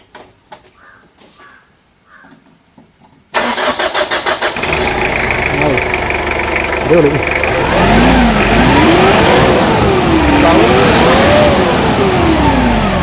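A 1984 first-generation Mitsubishi Pajero engine cranks after a quiet start, then catches and runs loud and close, settling into a steady idle with a few revs rising and falling.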